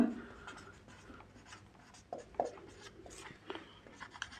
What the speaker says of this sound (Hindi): लिख देते हैं यहाँ पे।